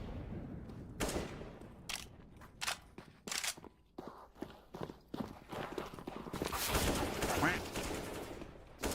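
Video game gunfire from a cheater whose weapon fires automatically at teammates: repeated sharp shots in irregular bursts over a steady background, with a denser, noisier stretch near the end.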